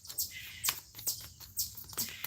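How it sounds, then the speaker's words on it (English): Little birds chirp in a series of short, bright bursts that come roughly every half second, fairly close and unaccompanied by talk. "All right, you little birdies."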